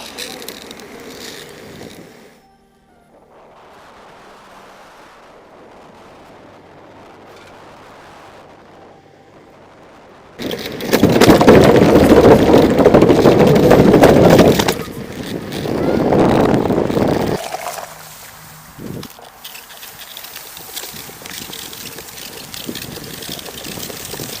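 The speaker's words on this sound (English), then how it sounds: "The following is how the board rides on sidewalks, paved roads, bridges, and also grass." A Teamgee H6 electric skateboard rolls over sidewalks, paved roads, bridges and grass, with quiet motor and wheel hum early on, then loud rough rumbling and wind buffeting that surges and eases as the surface changes.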